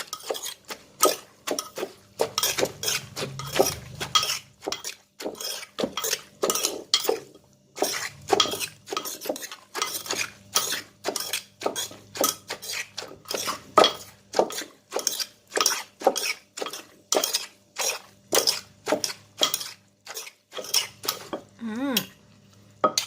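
Steady rhythmic pounding of Thai papaya salad with fermented fish sauce (pla ra) in a mortar, giving dozens of close, sharp wooden knocks with short pauses.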